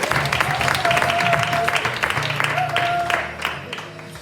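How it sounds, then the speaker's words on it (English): An audience at a church youth talk show applauds loudly and continuously, dense clapping with cheering voices mixed in, tapering off toward the end. "Clap your hands and give God some praise."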